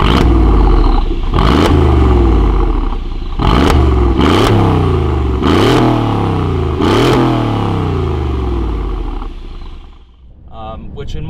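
A Brabus-tuned Mercedes G63 AMG gives a loud, deep engine rumble with several sharp revs and throttle blips, close by, settling to a steady idle at the end.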